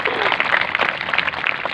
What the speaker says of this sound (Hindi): उनके सम्मान में जोरदार तालियां आप बजाइए।